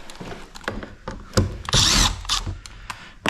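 A power drill on a 2025 Toyota Camry door trim whirs loudly in a burst of about a second, surrounded by close clicks and knocks of the tool and trim being handled, with no talk.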